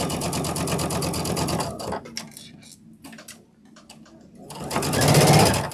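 A sewing machine runs fast while stitching a Thanksgiving table runner, a rapid even whir that pauses for a few seconds with light handling clatter, then starts again close and loud.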